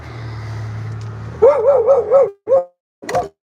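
After a low hum, a nearby dog lets out a warbling run of barks and whines, followed by two short, sharp barks.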